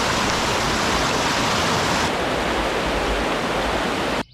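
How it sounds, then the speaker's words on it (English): Class 3 whitewater river rapid rushing in a steady, loud broadband roar of churning water, continuous and close, cutting off abruptly at the end. "this is a class 3 rapid down there"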